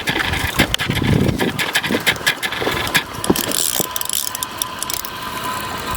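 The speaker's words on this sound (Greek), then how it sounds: "Ήθελα να γράψει λίγο τα φρενάκια πως ακούγονται" Fishing reel drag ratcheting loudly as a large gilthead sea bream pulls line out, rapid close clicking in uneven surges with brief pauses and no talking.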